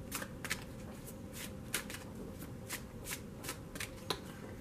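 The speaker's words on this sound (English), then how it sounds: "We're going to get one of these oracle cards, then we're going to break into the tarot deck." Oracle and tarot cards shuffled by hand in a quiet room, a steady run of soft riffling flicks and snaps repeating close by with no talk.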